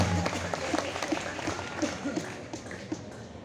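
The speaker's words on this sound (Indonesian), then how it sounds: "Tepuk tangan dong, luar biasa." Students at a high school religious gathering applauding, a moderate scattered clapping with a few distinct louder claps, fading gradually over a few seconds.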